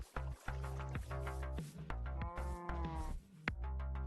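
Cows in a modded Minecraft farm give a string of repeated game moos, each call drawn out and tonal, fairly quiet and with short gaps between them, with no speech.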